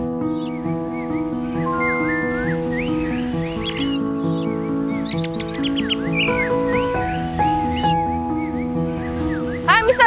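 Caged songbirds at a bird singing club set up in an MRT station keep up steady overlapping whistles and chirps at close range, layered over a constant low hum.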